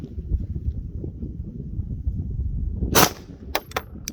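Glock pistol firing 124-grain rounds outdoors: one loud, sharp report, then three quicker cracks close together near the end, over a steady low wind rumble.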